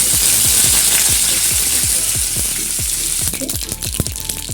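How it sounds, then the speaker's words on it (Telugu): Tempering spices and curry leaves sizzle in hot oil in a kadai for a Telugu radish leaf fry. Sharp, rapid pops and crackles ride over a continuous loud hiss, growing busier and more spattering toward the end. "బాణల్లో నూనె పెట్టుకుని పోపు దినుసులు వేసుకుంటాం."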